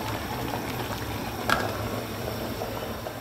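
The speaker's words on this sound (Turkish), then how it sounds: "Kaynatıp altını kapatacağım." Meatball soup at a rolling boil in a pot over high heat, a constant close bubbling and simmering hiss with one sharper pop partway through.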